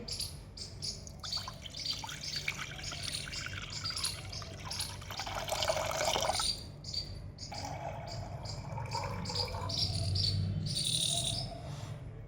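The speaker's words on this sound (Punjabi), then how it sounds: "ਹੁਣ ਆਪਾਂ ਪਾਣੀ ਪਾਵਾਂਗੇ" Water pours from a vessel into a wok set on a clay stove for cooking Punjabi rice. A soft trickling splash runs for several seconds under a steady outdoor cricket chirr, with brief clinks and no voices.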